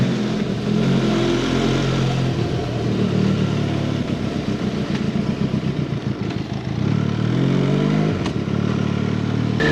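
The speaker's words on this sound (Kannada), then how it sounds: "ಬೈಕಲ್ಲಿ ವೆನಿಸ್ವರೆಗೂ ಹೋಗ್ತಾ ಇದ್ದೀನಿ" A motorcycle being ridden along a road in Italy toward Venice: a loud, continuous engine drone with wind rush and rhythmic pulsing from close by, holding steady throughout with no talk.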